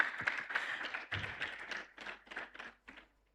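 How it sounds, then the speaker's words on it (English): Small audience at an environmental summit in Nigeria giving a brief round of applause, a few soft, uneven claps fading over about three seconds. "Please, a round of applause for her."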